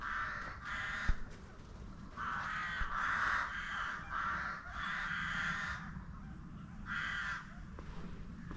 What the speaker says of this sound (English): With the sound of birds.